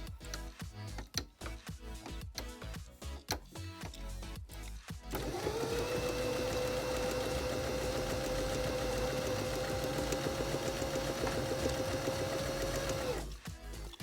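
A Janome Sewist 725S sewing machine runs in one continuous steady whir lasting about eight seconds, preceded by a series of clicks and knocks as the machine is handled, close and fairly quiet.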